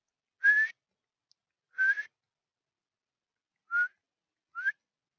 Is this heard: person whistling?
yes